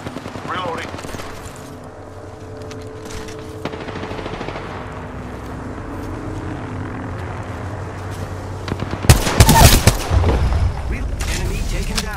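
Rapid automatic gunfire and shots from the battle royale game Apex Legends crackle steadily under game voice lines, building to a loud, dense burst of fire and impacts near the end.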